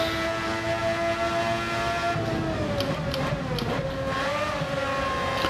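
A race car in Gran Turismo 7 holds a steady engine drone, then the pitch dips and wavers as it brakes into a corner and picks up again, heard alone at moderate level.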